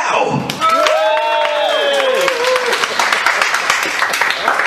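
Audience at a magic show bursting into applause, dense clapping with a crowd roar that builds and stays steady, while a voice and a rising whoop carry over the start.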